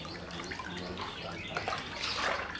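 Water stirred by hand in a tub to work up suds for washing baby toys, a continuous close sloshing and trickling that swells toward the end, with no talk over it.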